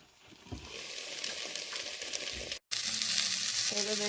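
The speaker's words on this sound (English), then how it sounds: "Potatoes are cooking good." Potatoes fry in a pan with a steady, close sizzle and crackle of hot fat, briefly cutting out for a moment before resuming just as loud.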